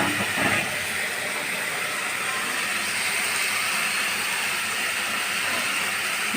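Bitter gourd slices frying in oil in a kadai give a steady, dense sizzling hiss that runs unbroken throughout, with no voices.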